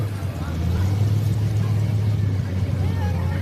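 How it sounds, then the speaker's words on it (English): A big-cubic-inch Case pulling tractor at a truck and tractor pull roars steadily at full throttle, bouncing against its rev limiter in a loud, sustained drone that dominates the clip. "you'll hear her come off the RPMs, and she goes back when it comes back off that rev limiter, and it turns loose again"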